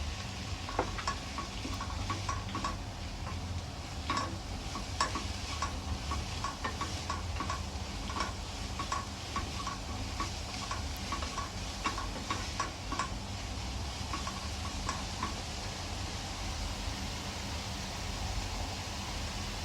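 Spinach sautéing in a pan with turmeric and salt gives a quiet, steady sizzle, dotted with light ticks and scrapes as it is stirred, with no voices.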